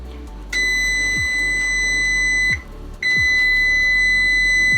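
A kitchen timer beeps in a long continuous electronic tone while a bundt cake bakes, breaking off briefly midway before resuming, loud and close with no talk.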